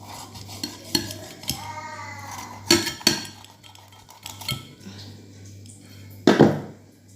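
A knife works through a mujair fish, a series of sharp clicks, scrapes and knocks against the board and dishes, spaced irregularly with a louder cluster near the end.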